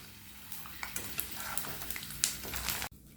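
Handful of peanuts frying in hot oil for a homemade mixture snack, a steady close sizzle with stirring and scraping clinks from a spoon in the pan, cutting off abruptly near the end.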